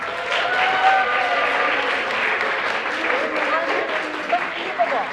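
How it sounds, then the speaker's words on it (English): Steady applause from a large audience at a Shakespeare speaking competition fills the space, continuous and fairly loud, with a few louder claps near the end. "give a great, huge round of applause for all the performers"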